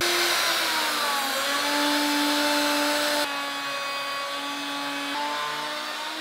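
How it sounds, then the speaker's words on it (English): Handheld router fitted with a slot cutter cutting a groove in wooden breadboard ends for a Greene and Greene style desk, a loud continuous high whine throughout. "I'm going to do that using a slot cutter and a handheld router."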